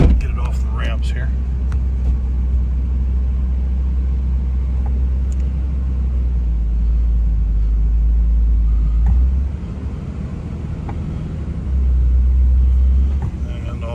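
A Nissan Z32 twin turbo car idles and creeps off ramps, a deep steady engine rumble with small swells in load, close by and loud.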